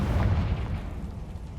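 A Confringo fire spell explodes in Hogwarts Legacy, a loud low boom that rumbles out and fades over a second and a half, with no voices over it.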